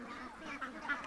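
A tiny runt duckling quacks in short, faint, repeated calls, close by and alone.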